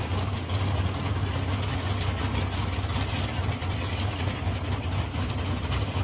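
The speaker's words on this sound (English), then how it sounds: "This car at the Don Ness GTO over there running a 762 cubic inch engine." A 762 cubic inch, 12.4 litre drag car engine in the Don Ness GTO idles at a drag racing event, a loud, steady, deep lumpy rumble that runs unbroken for the whole stretch with no talk over it.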